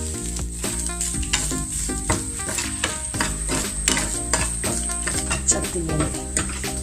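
Grated coconut frying with breadfruit in a pan for a Kerala pacha theeyal curry, stirred with a spoon: a continuous sizzle with frequent scraping strokes and clinks, close and moderately loud, under steady background music.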